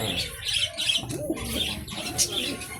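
Pigeons cooing and chirping close by, several birds calling over one another amid a busy, noisy background.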